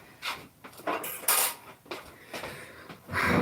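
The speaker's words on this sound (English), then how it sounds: "All I've got is a fork. Let me stir it." A fork clinking and scraping against the side of a glass as a drink is stirred, a series of bright metallic taps and rattles at irregular intervals, close and moderately loud.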